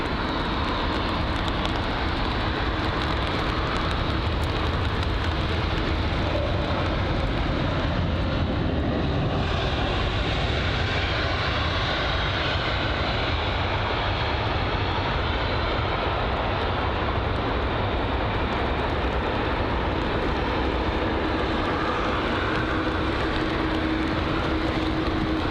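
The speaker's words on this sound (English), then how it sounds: "And up next, the Air Canada 787." An Air Canada Boeing 787 airliner at London Heathrow roars steadily with a broad, continuous jet engine rumble, loud and close throughout and unbroken by any voices.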